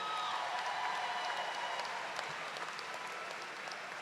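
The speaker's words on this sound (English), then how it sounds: "Graduates, please give a final round of applause to your parents, friends, and all your supporters who are here." Audience at a fall college commencement ceremony applauds: a faint, distant wash of steady clapping fills the hall and slowly tapers off.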